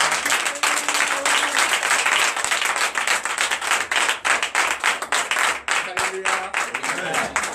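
A church congregation at a Sunday worship service breaks into loud, sustained clapping and applause that fills the room with dense, steady claps, with some voices and cheers mixed in.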